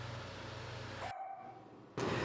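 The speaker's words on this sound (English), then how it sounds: "he sure is barking away outside" Dog barking outside, heard faintly and at a distance as a few muffled barks against a quiet indoor background.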